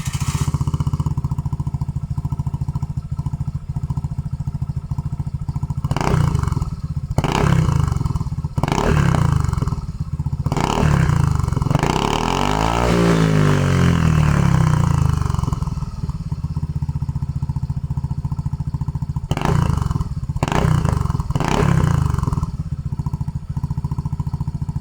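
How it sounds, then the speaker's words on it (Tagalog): Suzuki Burgman 125 scooter fitted with a KAO Killer exhaust pipe, idling with a steady buzzing drone, then blipped through several sharp revs and one long rising-and-falling rev, loud and close with no speech. "So ito na yung sound test ng cow killer pipe."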